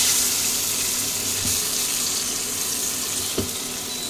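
Katla fish pieces sliding one by one into hot oil in a heated wok, a steady, hissing sizzle with a couple of soft knocks as pieces drop in, close and moderately loud with no talking.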